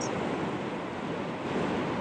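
Ocean waves wash in a steady, broad roar of surf with some wind rumble, constant and fairly close, with no voices over it.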